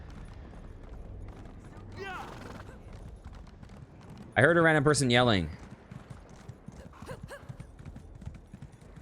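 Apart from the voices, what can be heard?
riding a horse in a video game, Elder Scrolls Online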